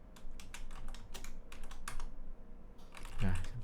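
Fingers type product specifications on a computer keyboard in quick, uneven bursts of soft clicks, close and quiet, with a low voice murmuring in the background toward the end.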